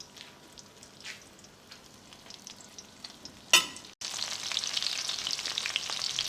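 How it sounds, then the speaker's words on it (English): Keto chicken pieces frying and browning in a pan, with a soft crackle that jumps after a sharp clatter into a loud, steady sizzle. "you're just going to let this start frying and browning on each side"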